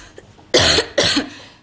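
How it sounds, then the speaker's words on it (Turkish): Two loud, harsh coughs close up, one right after the other, with quiet in between and no talking. "Çok fena öksürüyorum ama."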